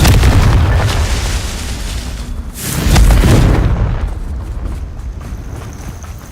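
A Confringo spell explodes in Hogwarts Legacy, a loud booming blast that swells around the middle, then gives way to a fading rumble with faint crackles.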